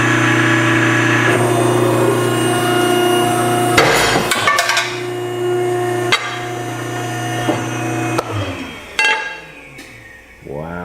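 Loud machine whine from an ironworker runs under a series of sharp metallic clanks and bangs as it punches a hole in steel, then the motor winds down near the end.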